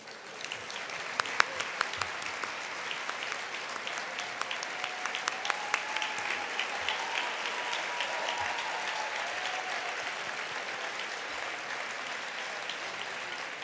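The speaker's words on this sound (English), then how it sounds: "give them a huge round of applause" Guests at a women's organization gala give a big round of applause, steady rippling clapping that swells in after a moment and holds on evenly, heard from a distance in a large room.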